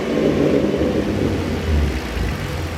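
A Ford Mustang 3.7 engine fitted with an Airaid cold air intake revs with a deep, steady rumble and intake whir, up close and loud, swelling briefly without speech.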